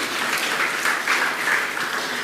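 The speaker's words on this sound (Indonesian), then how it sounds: "Tepuk tangan buat Tuhan Yesus" A church congregation claps steadily, a dense, even burst of applause with no voices over it.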